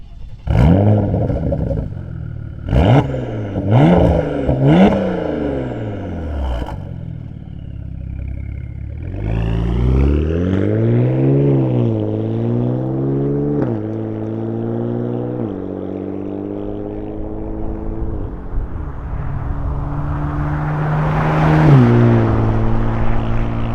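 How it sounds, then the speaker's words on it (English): A Porsche Macan Turbo with an MBRP 2.5-inch axle-back exhaust: short sharp revs at first, then a long steady acceleration on a highway, with the engine note rising through gears, loud and close throughout. "let's get the Porsche Macan Turbo out in the highway, see what this axleback sounds like"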